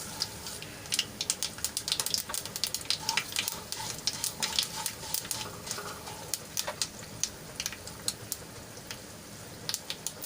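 Two big spoonfuls of sesame seeds dropped into hot tempering oil with popped mustard, cumin and a pinch of asafoetida, crackling in a dense spray of sharp pops over a constant close sizzle, no one talking.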